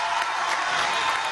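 Crowd applauding a mayor at a Venezuelan government housing event, a brief dense burst of clapping and crowd noise, loud and continuous, heard without speech.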